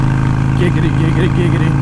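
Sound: Harley Iron 883 motorcycle engine decel pop

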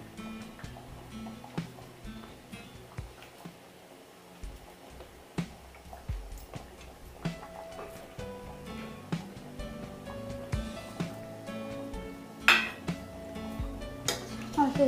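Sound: fried fish being added to a curry pot and stirred

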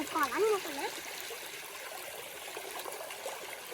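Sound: waterfall flowing

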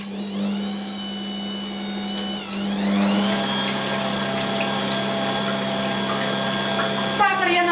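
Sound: electric mixer whipping cake batter

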